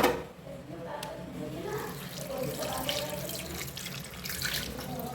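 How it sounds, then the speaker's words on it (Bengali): Tap water runs steadily from a faucet over a fresh fish set in a sink or bowl, a continuous close splashing rush with little change in level, and no one speaks over it. "চলো মাছটাতে না একটু জল দিয়ে রাখি"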